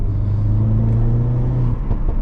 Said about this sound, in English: the sound and pickup of this car, which is when you're going in gear, is so good